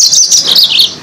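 A Mozambique canary at a bird seller's shop sings loud, close, rapid high chirps and trills in a continuous run.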